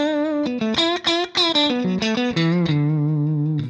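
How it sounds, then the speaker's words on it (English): A clean electric guitar through a Vibrato Lux clean amp model on a Fractal FM3 plays a short melodic lead line of clear sustained notes with slight reverb, ending on a held tone. "a little lead sound with the same clean amp"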